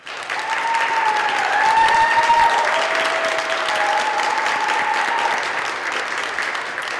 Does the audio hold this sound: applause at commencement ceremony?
yes